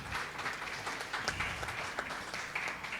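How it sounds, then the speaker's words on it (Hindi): Employees at a corporate rewards and recognition event clap together, a moderate, somewhat distant patter of many hands holding steady for a few seconds. "इसके लिए आप लोगों की जोरदार तालियां होनी चाहिए."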